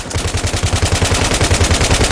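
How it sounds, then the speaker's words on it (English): Rapid, dense automatic gunfire from many weapons at once in a Battlefield 3 firefight, a loud continuous rattle of overlapping shots with steady pulsing rhythm throughout. "You have a lot of friendlies firing at the enemy at the same time"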